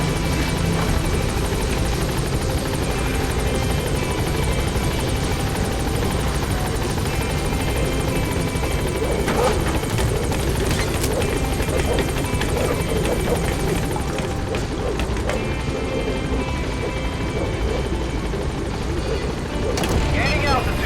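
A support helicopter in Metal Gear Solid V arrives at a landing zone, its loud, steady rotor drone filling the scene without pause while voices speak over it.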